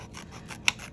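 Scissors snip through paper while cutting out a paper rocket shape, a soft, close rasping cut that runs for about a second with one sharper, brighter snip near the end.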